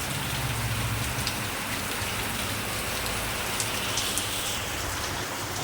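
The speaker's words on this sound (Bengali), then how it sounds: "কত বৃষ্টি হচ্ছে তাই না দেখুন বিশাল বৃষ্টি" Heavy rain pours down steadily, a dense, continuous hiss of drops filling the whole stretch with no voices.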